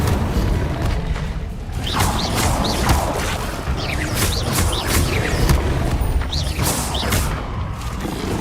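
Repeated Incendio fire spells in Hogwarts Legacy burst out as loud booming whooshes and crackling impacts, several in a row over dense game noise and mechanical clatter.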